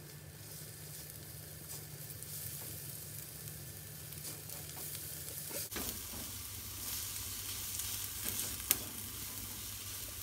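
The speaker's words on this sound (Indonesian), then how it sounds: "Tumis bawang putih dan bawang bombay serta jahe." Garlic, onion and ginger sizzle steadily in one to two tablespoons of frying oil, a soft continuous crackle with a brief stirring clatter partway through.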